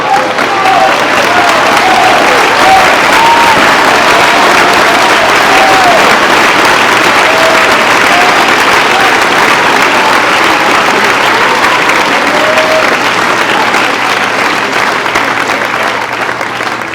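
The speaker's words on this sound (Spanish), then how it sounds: "Si ese aplauso es para Dios," Sustained, loud congregational applause fills a church service, dense and steady throughout, with a few voices calling out faintly beneath the clapping.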